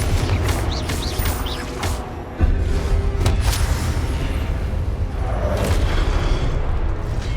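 Confringo fire spell explosions in Hogwarts Legacy, heavy booming blasts and crashing impacts with a sharp louder burst midway, followed by continuous rumbling roar under scattered bright effects.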